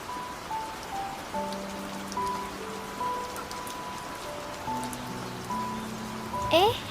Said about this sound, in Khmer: ហេតុអ្វីក៏មានភ្លៀងចឹងណោះ